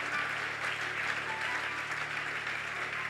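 A church congregation claps in a steady, dense round of applause, even and sustained throughout, heard from within the crowd.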